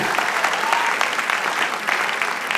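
Sustained audience applause at a live comedy show, dense and steady clapping from a crowd throughout.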